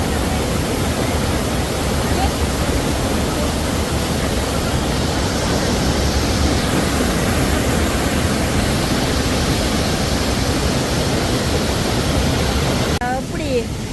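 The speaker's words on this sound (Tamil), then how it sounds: "எப்படி அருவி கொட்டு தண்டு பாருங்க." A waterfall in Switzerland pours in a loud, unbroken roar of rushing water close by, steady throughout, with a brief voice at the very end.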